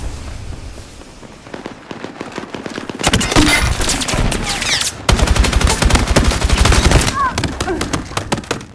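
Dense gunfire in Battlefield 6 crackles in rapid automatic bursts, loud and close, with sharp cracks and clattering echoes that swell after a quieter opening stretch, and a voice briefly mixed underneath.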